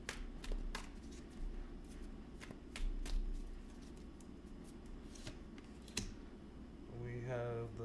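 Tarot cards are shuffled and pulled in quick papery riffles and flicks, a run of crisp close taps and snaps that ends as a voice begins speaking at the end.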